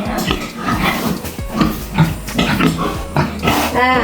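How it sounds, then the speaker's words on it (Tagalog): Large pigs in a farm pen grunt and snort in short, close, rough bursts, with someone talking over them. "Ang lalaki ng baboy."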